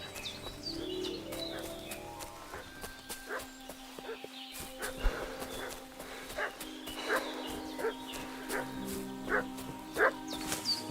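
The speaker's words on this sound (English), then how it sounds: "What's that dog making such a fuss about?" In the video game Kingdom Come: Deliverance 2, a dog barks repeatedly at a moderate distance in an outdoor village scene, the sharp barks spaced irregularly over chirping birdsong and soft ambient noise.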